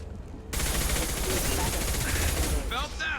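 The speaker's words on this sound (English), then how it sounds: "Concussive shot ready." Video game gunfire erupts in a dense, continuous burst of rifle shots and a heavy concussive blast, loud and close, with a brief quieter lead-in before the barrage.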